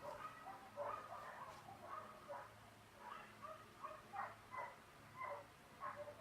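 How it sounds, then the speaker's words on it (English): Dogs next door bark faintly from a distance, several short yaps spaced irregularly across a quiet background. "Can you hear the dogs next door?"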